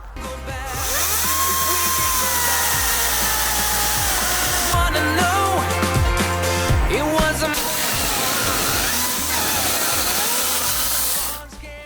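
A TEKHMANN cordless chainsaw running on two batteries cuts through dry, sound wood, its motor whining steadily with pitch dips as the chain bites, loud and close throughout before stopping near the end.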